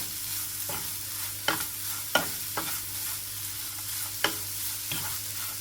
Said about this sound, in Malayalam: ഈ സമയത്ത് ഒരു കപ്പ് തേങ്ങ ചേർത്ത് കൊടുക്കുക നന്നായി മിക്സ് ചെയ്തെടുക്കുക